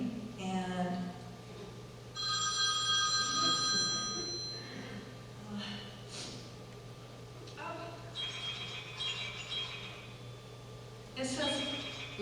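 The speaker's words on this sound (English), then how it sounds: "I'm noticing my phone is vibrating" A mobile phone rings during a church sermon, with bursts of electronic ringing tone repeating across the stretch, fairly faint in a reverberant room, while a minister speaks over it.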